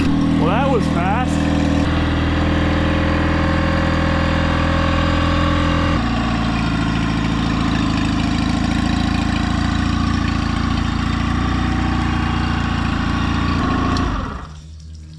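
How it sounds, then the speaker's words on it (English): A knockoff Yamaha outboard motor runs at a steady, loud idle, holding an even drone close by before cutting out near the end. "That thing fired up freaking immediately, idles down low, runs perfect as a new engine should."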